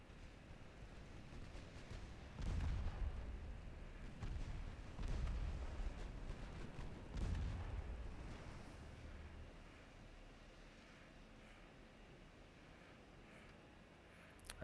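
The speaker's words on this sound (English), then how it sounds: "We can just fire everything into this. Well, keep the main guns on you." Warship main guns firing in the naval game Ultimate Admiral Dreadnoughts, three deep, muffled booms a couple of seconds apart, faint and distant over a low rumbling sea-and-wind background.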